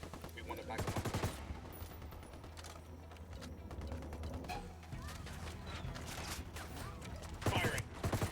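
Rapid automatic gunfire is traded between fighters and a cartel in a video game. Loud bursts open and close the stretch, with steadier, more distant shots and mechanical clatter between them, and a voice talks during the shooting.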